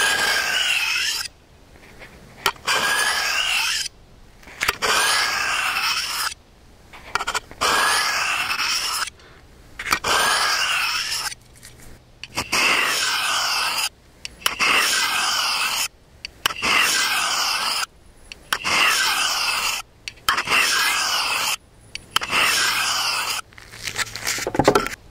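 A knife blade is drawn repeatedly along a ceramic sharpening rod, with a microphone taped to the rod. Close, scraping rasps come in a steady rhythm of about a dozen strokes, separated by short quiet gaps.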